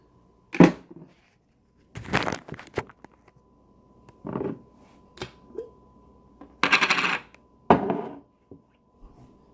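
A large Costco can of queso cheese is opened in a kitchen, with scattered metallic clanks, scrapes and thuds of the can and opener coming in short separate bursts, close and dry with no voices.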